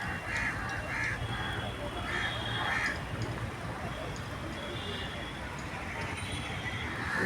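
Birds call outdoors on a sunny winter day, with repeated crow-like caws over a steady noisy background, and a voice talks at times.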